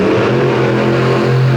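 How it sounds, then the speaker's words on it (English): The Toxic 1 monster truck, a PEI chassis with a 540 cubic inch Kevin Stauffer engine in the back, revs loud and steady off the line at an outlaw monster truck drag event in Canfield, Ohio. "the PEI chassis machine with the 540 cubic inch Kevin Stauffer engine in the back"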